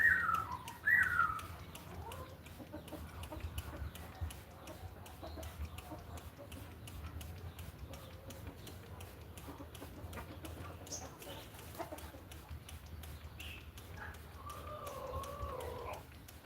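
Caged birds set out to sun give faint, scattered chirps and whistled calls, a little louder at the start, over a low steady background hum.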